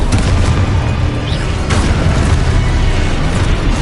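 Spell blasts explode one after another in the Hogwarts Legacy video game, making a loud, dense, continuous rumble of booms and bursts with no audible talk.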